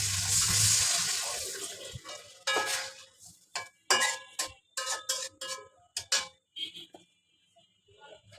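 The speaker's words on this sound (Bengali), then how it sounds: "উল্টে পাল্টে দিয়ে এখন পানি দিয়ে দেবো" Water splashes into a pan of spiced egg curry, followed by a run of separate spoon scrapes and stirring clatters against the pan, each stroke distinct and close.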